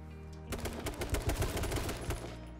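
Gunfire in the video game H1Z1 during a sniper encounter comes as a rapid, fairly close volley of repeated shots over a steady background hum.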